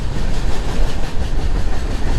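The Falaknuma SF Express 12703 rolls through Charlapalli railway station with a loud, continuous rumble and rattling clatter of wagons and wheels, close by and steady throughout.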